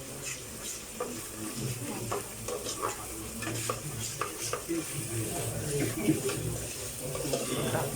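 Soy-marinated food fries in plenty of oil with garlic and ginger, giving a steady close sizzle broken by repeated scraping stirs, with faint water or tap sounds in the background.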